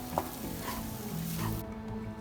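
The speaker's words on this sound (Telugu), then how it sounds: "పుదీనా మంచిగా కలిసిదాకా ఇట్లా మంచిగా కలపాలి" Mint leaves being stirred into pudina rice in oil in a pan, a steady close scraping and soft sizzle running throughout, cut to near silence in the upper range partway through.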